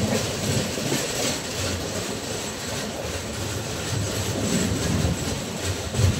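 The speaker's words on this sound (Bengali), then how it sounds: "আমাদের ট্রেন এখন ঢুকছে জাঙ্গিপুর রোড স্টেশনে।" A Garib Rath Express train rolls into Jangipur Road station, with a steady, loud rumble of wheels and carriages and faint rail clatter throughout, and no voices.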